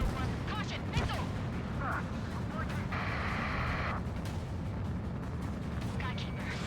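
Aerial combat in the video game Ace Combat 7, with a missile striking an aircraft: scattered booms and crackling bursts sound over a steady roar, with one hissing, noisy blast in the middle and sparse radio-style voices.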